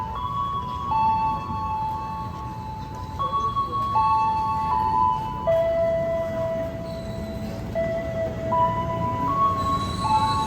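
Commuter train arriving at platform 2 of a Jakarta station on the line toward Bogor, with sustained tonal squeals and rumble over steady station noise, no talk.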